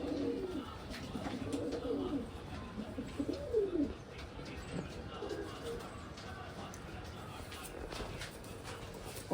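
Old line racing pigeons coo in repeated low, throaty burbles that rise and fall close by, several birds overlapping against a steady background murmur.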